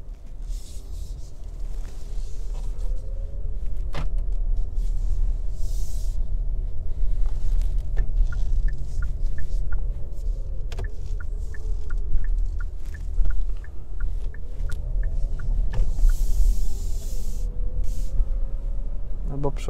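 A Kia Sportage 1.6 T-GDI PHEV plug-in hybrid with automatic gearbox and all-wheel drive pulling away, a low steady hum and road rumble with faint whining tones and clicks from inside the cabin.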